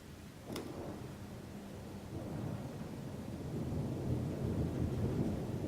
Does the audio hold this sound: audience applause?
no